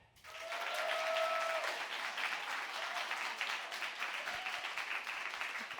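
A debate audience claps for one team in a dense, sustained burst that swells quickly and holds steady to the end, with a faint tone lingering early on.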